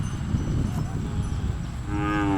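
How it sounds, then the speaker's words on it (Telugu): Desi cows lowing at a village dairy farm that keeps about 350 head, a steady deep moo running through the whole stretch with a second call rising near the end, close and loud. "ఆవులు చూస్తున్నారు ఫ్రెండ్స్"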